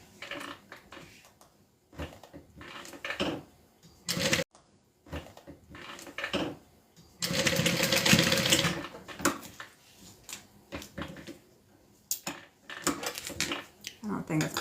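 Sewing machine stitching down the edge of a reversible scarf, with short close runs of rapid mechanical whirring between pauses and fabric handling, and a person talking at moments.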